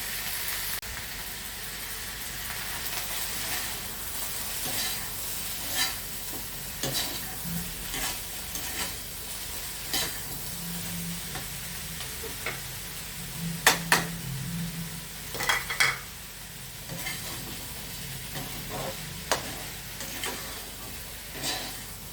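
Biryani rice is stirred in a pot after salt is added, with repeated scraping and stirring strokes over a steady close sizzle and hiss. A few louder knocks of the spoon come near the middle and later, with no talking.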